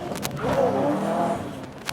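A car with a straight-pipe exhaust revs up close, its engine tone rising and holding in a rough drone before a sharp burst at the end, with people talking over it.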